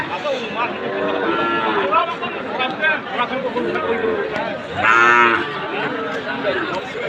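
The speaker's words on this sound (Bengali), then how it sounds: "শাহিওয়াল ষাঁড়" A Sahiwal bull lows with several drawn-out, close moos at a cattle market, over a constant background of crowd chatter and voices.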